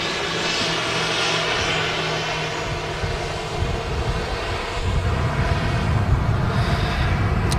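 A KLM airliner taxiing at Manchester Airport gives a steady, loud engine roar that holds throughout, with broadband rumble and whine swelling slightly toward the end.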